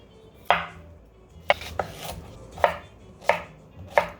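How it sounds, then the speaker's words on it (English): A knife chops zucchini into chunks on a cutting board with about six crisp, separate thuds at an uneven, unhurried pace. The sound is close and fairly quiet, and no one talks. "Cut the zucchini in chunks."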